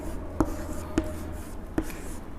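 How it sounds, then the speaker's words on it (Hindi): Chalk or marker tapping and scraping on a board during a Hindi grammar lesson, three short distinct strokes spaced about half a second apart over a low steady room hum, with no talking. "लिखते हैं"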